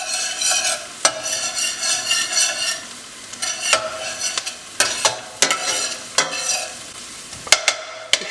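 Chopped garlic sizzles in a hot pan while a utensil stirs and scrapes it, with steady frying crackle broken by repeated sharp knocks and clinks of spoon against pan.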